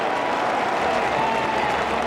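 A stadium crowd at a rugby league semi final cheers and applauds in a dense, continuous roar of clapping and voices that holds steady throughout.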